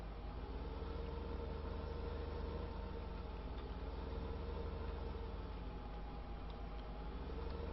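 Tractor engine idling in the Farming Simulator 2015 video game, a steady low droning hum with a faint mechanical whine, constant and even throughout, quiet and without talk.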